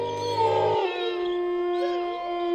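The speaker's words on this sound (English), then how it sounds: "There, in the darkness, was a glowing white wolf howling at the beautiful moon, with crimson red eyes" A lone wolf howls at the moon, a long sustained howl that rises and then holds steady as a clear, loud tone against a quiet background.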